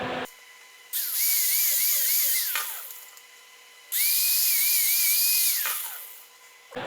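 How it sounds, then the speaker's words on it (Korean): An angle grinder grinds down a TIG (argon) tack weld, in two long loud bursts of high whine with a wavering pitch, separated by quieter motor hum. "용접한 부분을 거의 갈아내서 이렇게 마감을 하게 됩니다"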